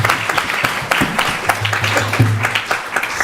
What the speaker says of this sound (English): Please give Prabhu a big round of applause